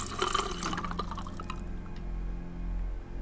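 Water drips and trickles in a hospital setting within a game, with rapid splashy drops at first that thin out into a quieter, sparse trickle. The sound is faint and close.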